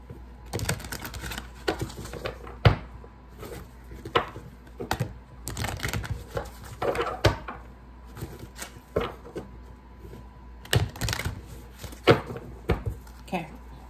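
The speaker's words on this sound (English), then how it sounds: "Let me go ahead and shuffle that as well." An Archangel Michael oracle card deck is shuffled up close in a quiet room, giving irregular bursts of soft riffling and tapping clicks with short pauses between them.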